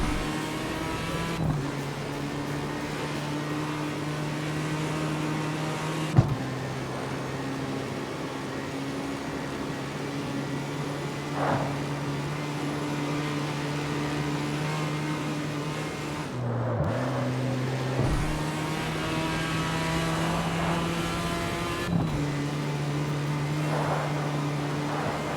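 Car engine in the street-racing game CarX Street, holding a steady high drone that dips and climbs again through several gear changes, loud and close, with no talk over it.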